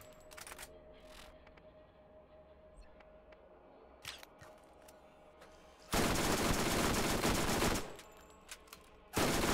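An SMG in Borderlands 1 fires at double rate, a loud burst of rapid shots lasting about two seconds followed by a short second burst, after quiet menu-like clicks and faint background hum.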